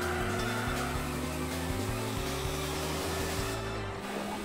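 A race car in Gran Turismo 4 drives downhill and powers out uphill, its engine a loud, sustained drone that shifts pitch through the corners with no pauses.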